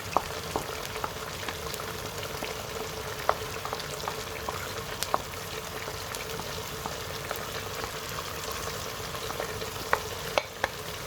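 Mutton pieces fry steadily with ginger and garlic in a pan, a continuous close sizzle with faint stirring clicks and scrapes running throughout, no voices.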